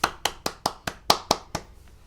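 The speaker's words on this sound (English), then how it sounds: "But applause." A short burst of light hand claps, about eight evenly spaced sharp claps fading out, close and fairly quiet.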